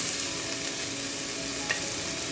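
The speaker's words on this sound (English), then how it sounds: "now I'm going to be adding the seasoning so we can fry this up" Egg and rice with seasoning frying in a pan, a steady, loud sizzle and hiss that keeps up without a break, with a brief scrape of stirring partway through.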